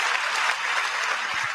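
Dense, steady applause from a crowd, loud and continuous throughout with no pauses.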